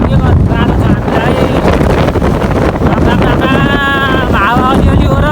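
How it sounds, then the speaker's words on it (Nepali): Strong wind buffets the microphone while riding a motorbike on a road from Sunsari to Kathmandu, a loud constant roar throughout, with someone talking over it. "हावाले कुदाउन दिँदैन बाइक"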